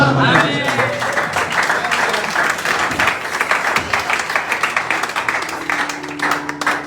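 A church congregation applauds together, a dense wash of clapping that stays loud and steady throughout, with voices mixed in beneath it and a few individual claps standing out toward the end.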